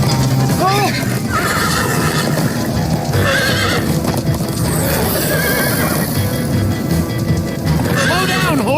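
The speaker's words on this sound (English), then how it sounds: "Slow down, horse!" Horses neigh and gallop in the Minecraft: Story Mode video game, with repeated whinnies and rapid clip-clopping hooves under game music and effects, while characters talk over the action.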